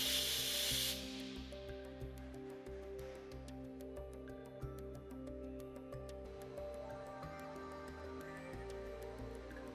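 Oxygen escapes as a strong, loud hiss from a briefly opened cylinder valve during setup of an oxyfuel hand cutting torch. The hiss cuts off after about a second, leaving a quiet humming background with faint ticking.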